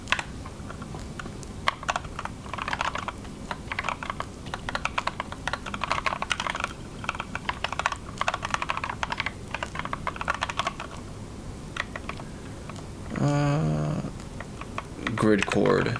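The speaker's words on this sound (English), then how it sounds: "I hate typing this whole thing." Rapid clicking keystrokes on a computer keyboard during coding, steady irregular tapping over about twelve seconds, with a few louder, fuller bursts near the end.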